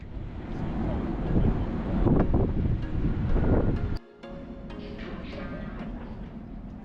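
Strong wind buffeting the microphone on the open deck of a DFDS cruise ship sailing the Oslo fjord, a steady loud roar with a brief dip midway, with faint voices underneath.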